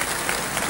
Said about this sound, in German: Und jetzt klatschen's